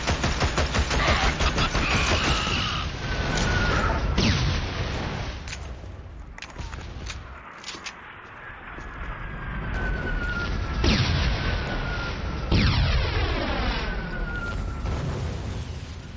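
A grenade blast and gunfire in Killzone during a Helghast assault: rapid bursts of weapon fire and booming explosions with ringing, whistling tails, continuous and loud throughout.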